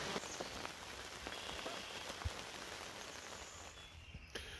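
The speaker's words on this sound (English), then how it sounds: "it is just pouring rain" Heavy rain pours onto a camper at Yellow River State Forest, a steady dense patter of drops drumming on the roof, fairly quiet and continuous with no voices.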